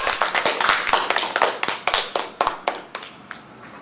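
A small audience claps at a Korean character-education lecture about King Sejong, sharp hand claps in an uneven, thinning burst of about a dozen distinct hits that taper off over four seconds, close and moderately loud.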